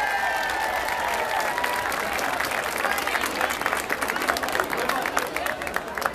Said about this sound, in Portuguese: Vamos aplaudir, gente!